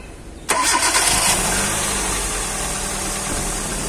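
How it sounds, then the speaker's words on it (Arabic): A car engine with its throttle position sensor disconnected cranks and catches after half a second of quiet, then settles into a steady, loud idle close by with no one talking. "اديني فصلته وهشغل المحرك واشوف رد الفعل ايه"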